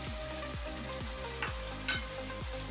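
Egg masala with added peas frying in hot oil gives a steady close sizzle, with repeated falling tonal sweeps running through it and a couple of brief stirring scrapes near the end.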